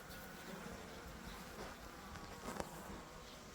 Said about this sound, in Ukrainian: ось дуже багато бджіл. Сидять плотненько.